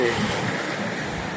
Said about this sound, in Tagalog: dito sa tabi ng dagat, medyo maalon ngayon, tsaka malakas ang hangin